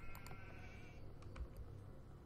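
Sheep bleating in the strategy video game Age of Empires II, a couple of short nasal bleats heard faintly behind quiet game ambience, with no talk.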